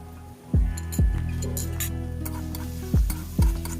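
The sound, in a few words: frying onion, ginger, garlic paste with chili and turmeric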